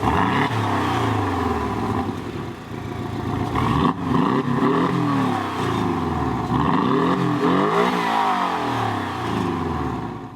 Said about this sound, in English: If we open the exhaust valve,